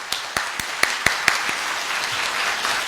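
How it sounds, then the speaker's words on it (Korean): An audience applauds at an event, starting with a few sharp distinct claps and swelling into steady, dense clapping that continues to the end. "다시 한번 큰 박수 부탁드리겠습니다"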